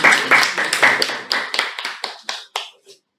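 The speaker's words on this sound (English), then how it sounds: "a huge round of applause to them" A small group claps for a few seconds, the applause thinning out and fading into a last few scattered claps.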